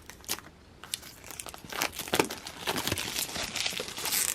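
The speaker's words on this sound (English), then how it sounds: "we're just gonna tear this thing open" Plastic shrink film is torn and peeled off a tarot deck box, a close, crackly crinkling and crumpling that grows busier and louder over a few seconds, with no talking.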